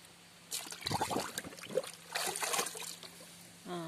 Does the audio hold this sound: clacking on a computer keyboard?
no